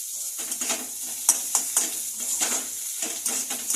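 Soft sizzling of onion, garlic and nigella seeds frying, with repeated scraping strokes of a spatula stirring the pan, close and rhythmic; no voices.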